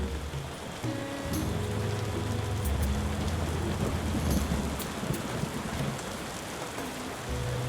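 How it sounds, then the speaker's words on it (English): Rain falls in the tavern-management video game Tavern Keeper as a steady, dense hiss of downpour with a low rumble beneath it. It continues unbroken and fairly loud, with no talking. "Seems we're in for a rainy night."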